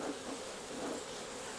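Thousands of honeybees swarm at the front of an open hive, giving a steady, close, dense buzzing drone that holds evenly throughout.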